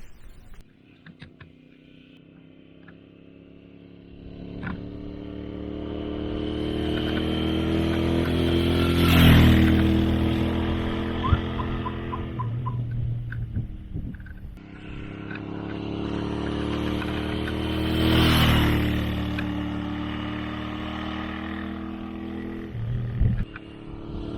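A Royal Enfield Interceptor motorcycle's fuel-injected engine idles, then revs up twice to a high whining peak and drops back quickly, close by and loud.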